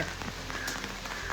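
Steady rain pours outside on a misty, fog-covered day, a dense continuous hiss of drops striking surfaces with no voices present.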